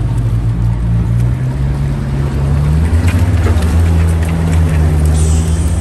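An all-terrain vehicle engine drones loudly and steadily as it pulls away in gear, its low rumble shifting in pitch as revs rise and fall.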